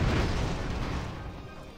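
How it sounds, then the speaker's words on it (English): Explosions on a bomber airship in the video game Airships: Conquer the Skies make a heavy, rumbling boom that fades slowly, with crackling blasts merging together. "there's a lot of explosions on that bomber"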